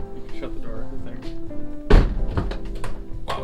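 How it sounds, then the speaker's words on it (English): A Land Rover Discovery II door shuts with a single solid thunk partway through, with a person talking before and after it. "You can shut the door, I think."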